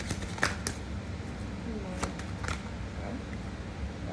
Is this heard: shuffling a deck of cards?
yes